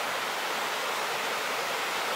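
Rushing mountain water along the Continental Divide Trail in Colorado between Wolf Creek Pass and Spring Creek Pass gives a constant, full roar, loud and even, with no talk.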